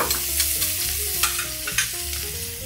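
Frying over low heat until crisp for a homemade Caesar salad dressing, with steady broadband sizzle, clicks of stirring throughout and faint background music notes, no talk.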